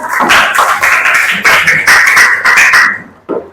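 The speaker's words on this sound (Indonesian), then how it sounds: "Tepuk tangan untuk kita semua." Students in a classroom clap together in loud, choppy bursts that break into a loose rhythm. The clapping stops abruptly near the end, and a brief sound follows.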